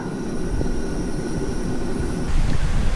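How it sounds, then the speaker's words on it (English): Steady night wind in Victoria's High Country, Australia, roaring and buffeting, with a broad rumbling rush that grows a little stronger near the end. "It's very windy tonight, I hope you can hear me."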